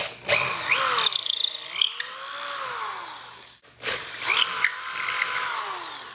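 A power drill with a 5/16 bit reams holes in a pedalboard riser, whining up and down in several bursts, pitch rising and falling as the bit cuts, close and loud with brief pauses.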